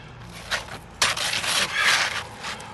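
Asphalt roof shingle being trimmed during a roof repair: rough rubbing and scraping strokes, a short one first, then a longer sustained rasping pass, close and moderately loud.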